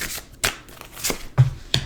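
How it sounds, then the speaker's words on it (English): A deck of tarot cards being shuffled by hand in several quick, close riffles and taps, separated by short pauses. "One more shuffle."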